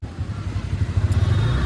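Motorcycle moving off on the road from Gabbar hill toward Ambaji, its low engine rumble steady and close, growing slightly louder as it rides, with no talk.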